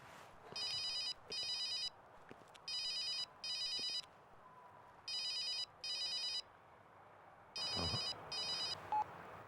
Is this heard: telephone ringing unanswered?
yes